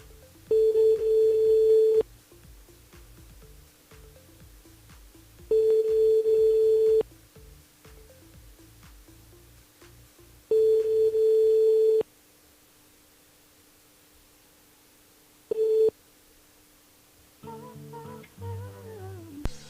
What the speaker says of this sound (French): On appelle Nathalie sur le standard de la radio.